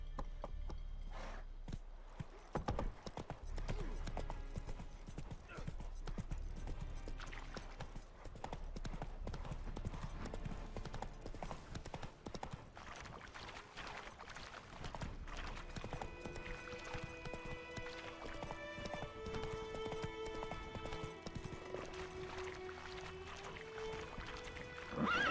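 Roach the horse galloping in The Witcher 3, rapid continuous hoofbeats drumming for a long stretch under game ambience and music, with a faint voice speaking at times.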